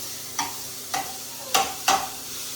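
Cluster beans sauté with a peanut, garlic and coriander paste, a low sizzle under four distinct spoon-stirring scrapes spaced about half a second apart, close and clear.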